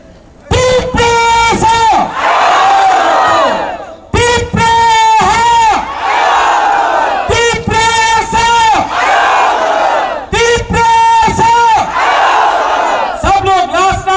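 A large crowd at an outdoor ground shouts together in unison, in loud, repeated rhythmic chants, echoing call-and-response bursts that follow one another for over ten seconds, close and powerful.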